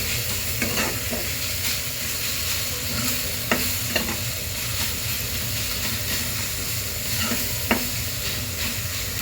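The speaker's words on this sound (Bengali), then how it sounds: "এখন একটু ভালো করে নাড়াচাড়া করে নেবো।" Masala Maggi noodles with Maggi masala seasoning sizzle and hiss in a hot pan while being stirred. A continuous frying rush runs throughout, broken by occasional scraping clicks from the spoon.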